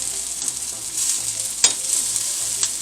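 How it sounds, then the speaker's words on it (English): Flour being stirred into melted butter and heavy whipping cream in a pan, a steady bright bubbling hiss with a couple of sharp spoon taps, close and loud without talk. "and stirring immediately so the flour doesn't get lumpy"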